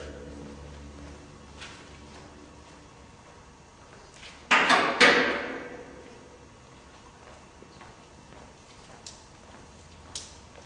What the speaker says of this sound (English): Pull your safety release cable underneath each carriage.